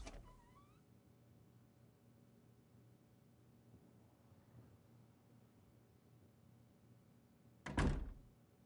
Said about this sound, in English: I opened the door to the room.